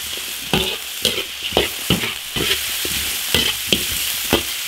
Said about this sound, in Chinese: 把猪尾巴水分煸干